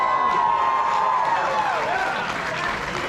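An audience at a Six Flags Magic Mountain Fright Fest panel at Midsummer Scream 2023 claps and cheers in a dense, continuous wash of applause, close and loud, with a few voices calling out amid the crowd.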